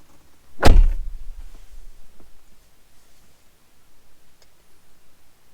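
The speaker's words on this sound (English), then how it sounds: "To open the door so I can reset it." A single sharp thunk of a Dodge SRT car door, followed by a faint low rustle and a few soft ticks in a quiet interior.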